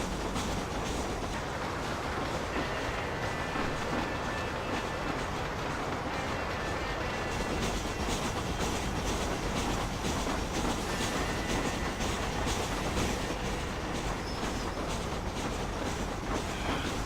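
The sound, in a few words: train passing in the video game Red Dead Redemption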